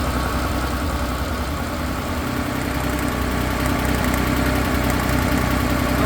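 The engine of a 1968 Porsche 911L runs steadily at idle while being inspected for a running noise, a loud close mechanical drone with a fine rattling texture and no pauses.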